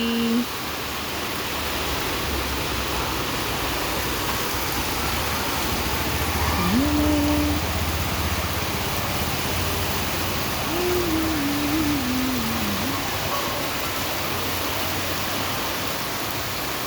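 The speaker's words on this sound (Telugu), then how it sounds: "పెద్ద వర్షం" A dense, constant hiss of heavy rain fills the scene, with a faint tone or two rising through it partway along.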